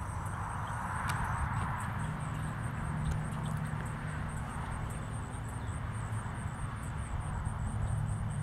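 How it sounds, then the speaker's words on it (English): A distant airplane drones overhead outdoors, a steady low engine rumble holding at an even level throughout, with faint rhythmic ticking sounds above it. "There's the airplane."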